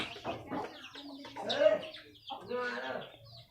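Farm chickens cluck close by while they feed at a rural home, sounding in short, overlapping bursts under a voice.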